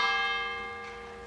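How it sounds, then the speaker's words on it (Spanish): A single church bell strike rings out clearly, its bright metallic tone slowly decaying into a lingering hum. "El repicar de las campanas rompe el silencio húmedo de la ciudad"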